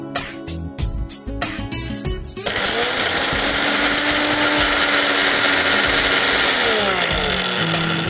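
A kitchen mixer grinder whirs loudly and steadily, milling roasted lentils into powder; its motor roars continuously for several seconds after a short stretch of clattering at the start.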